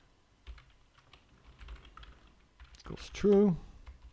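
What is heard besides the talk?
typing on a computer keyboard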